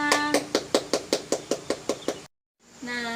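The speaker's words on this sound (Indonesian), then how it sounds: "Beri tepuk tangan untuk kita semua." Hand clapping in a classroom after a national song, about a dozen sharp, evenly spaced claps in a steady beat with a tone underneath, then a sudden silence and a sustained tone resuming.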